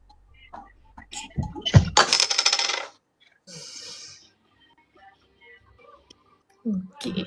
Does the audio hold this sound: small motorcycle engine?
no